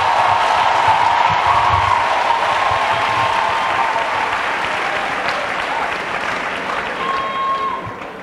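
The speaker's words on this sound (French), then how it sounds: "Et acclamons pour Jésus-Christ" A church congregation applauding steadily, a dense wash of clapping that continues throughout, with a voice talking over it near the end.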